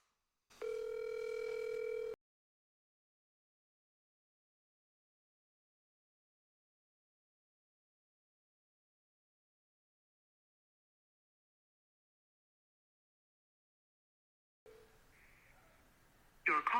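An outgoing phone call plays one short dial or ringback tone near the start, followed by a long silence and then faint line noise and clicks at the end.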